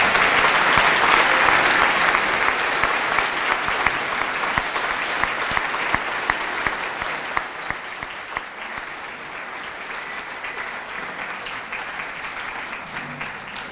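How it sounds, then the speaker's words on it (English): Sustained applause from a large audience at a high school graduation ceremony, a dense steady wash of clapping that starts loud and slowly tapers toward the end, with no talking over it. "Please give them a round of applause."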